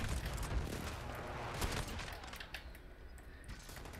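Heavy shotgun blasts from a powerful marksman-style shotgun in a first-person shooter, loud booming shots with a dense rumbling tail, heard alone with no voices.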